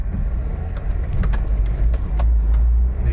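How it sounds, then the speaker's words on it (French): A Suzuki Jimny 1.3L 16-valve 4x4 pulling away up a steep slope in fourth gear: a loud, close, steady low engine rumble that barely changes, with faint chirps above it and no talking. "Le véhicule n'a pas de mal à repartir."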